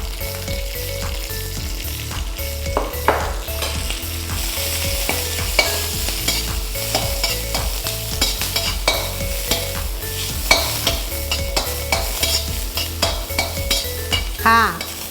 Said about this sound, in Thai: เราผัดให้คะน้าเนี่ยนะคะ โดนไฟ โดนน้ำมัน นิดนึง